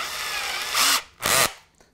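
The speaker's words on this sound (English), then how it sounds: "with the drill fitted" Cheap electric drill boring into two-inch timber, a whirring grind that swells twice in short bursts and then spins down, close and fairly loud.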